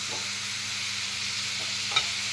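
Tomatoes being stirred into curry in a hot pan, with a steady broad sizzle of frying throughout and soft scraping stir strokes, plus one sharp clink near the end; close and fairly even, no talking.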